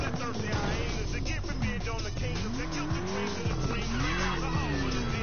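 A BMW racing in Need for Speed Payback, its engine revving and shifting in rising and falling sweeps while tires squeal and skid, steady and loud throughout.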